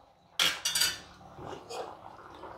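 A utensil scrapes and clinks against a metal pressure cooker pot in a few quick strokes, followed by softer stirring of sweet corn tomato pulao, close and quiet.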